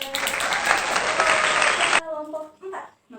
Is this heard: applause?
yes